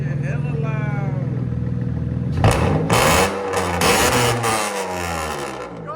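A loud Acura with true dual exhaust idles with a rapid throbbing rumble, then revs hard in several loud bursts close by, with people talking over it.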